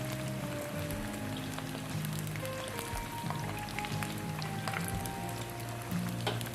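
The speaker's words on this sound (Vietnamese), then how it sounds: "Bây giờ chúng ta chiên" Crispy fried sticky rice with mushrooms sizzling in hot oil, a soft steady crackle with scattered pops, quiet and close, with low background hum.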